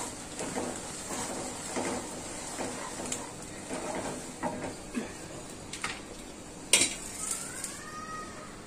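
Spatula scraping and stirring mango pickle with turmeric in oil in a pan, repeated soft scrapes and clinks, with one sharper metallic knock near the end.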